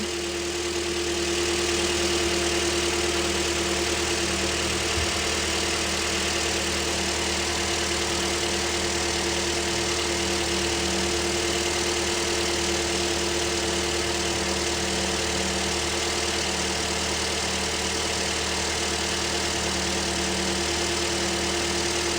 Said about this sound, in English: The engine is cold at the moment